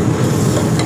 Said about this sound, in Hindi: ये वाइट ग्रेवी का तड़का लग रहा है